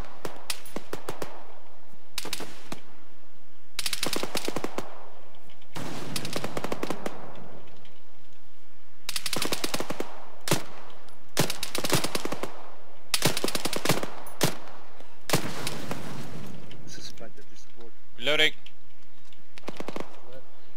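Machine gun fire in Arma 3 comes in repeated loud bursts of rapid shots separated by short pauses, with people talking over the radio between and over the firing.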